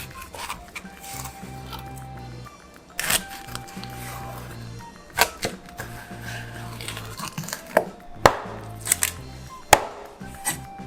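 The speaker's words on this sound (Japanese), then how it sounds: "じゃあ尻尾を落としてもう焼き物用に豪快にぶつ切りしていきます。" Heavy knife chops through a whole silver pomfret, cutting off the tail and hacking it into chunks for grilling: several loud, sharp thuds on the cutting board between quieter scraping and handling noises.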